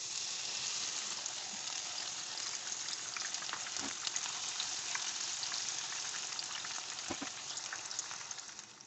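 Whole masoor and moong dal frying in hot oil, giving a steady, dense crackling sizzle that carries on without a break, close and fairly loud, with a couple of faint knocks and no talking.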